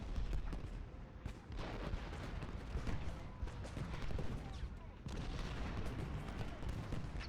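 Civil War cannon fire rolls across an Ultimate General Gettysburg battlefield, a dense continuous barrage of overlapping booms and crackling volleys at steady loudness, with artillery salvos punctuating the din throughout.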